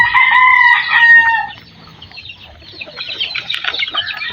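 A rooster crows loudly and close, one long strained call, followed by hens clucking in quick, scattered bursts at a backyard feeding, with no talking.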